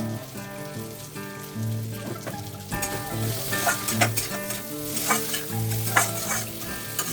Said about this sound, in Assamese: এতিয়া আলুখিনি মই অকণমান ফ্ৰাই কৰি ল'ম।